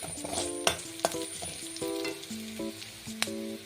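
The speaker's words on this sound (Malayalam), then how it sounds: "ഇളക്കി കൊടുക്കണം അല്ലെങ്കിൽ അത് കരിഞ്ഞു പോകാൻ സാധ്യതയുണ്ട്" Anchovy pickle masala frying in a pan and stirred close up, a steady sizzle with sharp spoon-on-pan scrapes and clinks at an irregular pace, no voices.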